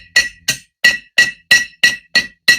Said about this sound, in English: What I'm going to do is I'm going to add a few hammer marks. By that, I mean bring it over the anvil here.